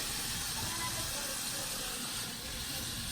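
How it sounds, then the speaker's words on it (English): Top round beef searing in a covered pan over medium heat, a steady broadband sizzle and hiss, constant and moderately loud throughout. "I'm going to cover it and just let it sear really good on that first side"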